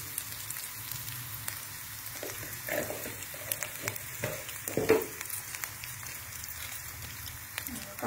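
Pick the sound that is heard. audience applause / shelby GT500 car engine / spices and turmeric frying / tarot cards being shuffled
spices and turmeric frying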